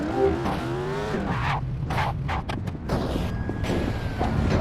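A car chase in the Benny a Good Man mission of a video game: engine revs and rising tones sweep up and down, broken by sharp clattering hits and skids, with a loud, busy mix and no clear voices.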